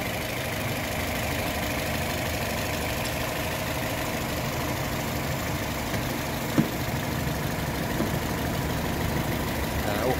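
A 2016 Toyota Vios engine idles steadily just after an oil service, a continuous close rumble with no break and no talking.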